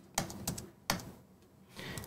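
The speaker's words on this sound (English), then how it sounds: "you are hearing my typing quite a bit" Computer keyboard typing close to the microphone, a few sharp clicks in quick irregular bursts with a pause between them.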